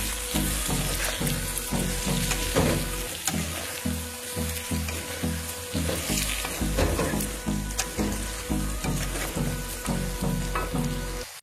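Dry chili powder, cumin, turmeric and ginger fry in hot oil for chicken masala, sizzling continuously while a spoon stirs them with a repeated scraping rhythm, close and fairly loud, with no speech.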